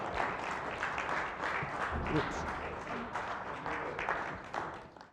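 An audience at a Christmas program applauds the children dressed as shepherds, a fairly faint, continuous wash of clapping with a brief spoken exclamation in the middle.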